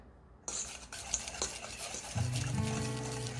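Thick yogurt stirred into a chicken tikka marinade with Kashmiri red chili: a close, wet scraping and squelching of spoon against bowl starting abruptly, with a brief low tonal hum near the end.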